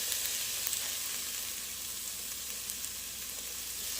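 Onion and bacon sautéing in a pan, a soft steady sizzle with faint crackles, quiet and even throughout.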